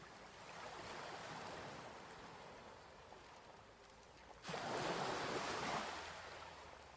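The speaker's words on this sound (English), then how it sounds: "lulled deeper and deeper into relaxation with the rhythmic sound of the waves." Ocean waves wash steadily onto a shoreline in a broad, continuous roar, swelling louder as a bigger wave breaks near the end, with a light wind rushing underneath and no voices.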